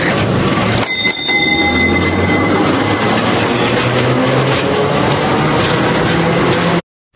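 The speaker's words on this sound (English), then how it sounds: "Tram." A tram rolls along its rails, close and loud, with a continuous rumbling clatter. A brief ringing bell and squeal come early on, and the sound cuts off near the end.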